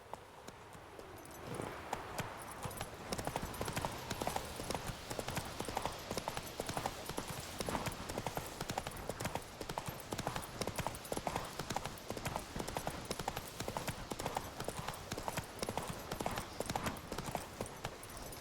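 Hooves of a horse in The Witcher 3 gallop in a fast, continuous rhythm, close and steady for the whole stretch, with game ambience underneath and no talking.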